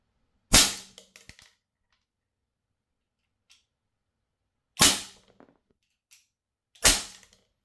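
A 44 Magnum airgun fires three sharp, loud cracking shots at 1 meter, one alone and then two close together after a long pause, each followed by a few small ticks and rattles.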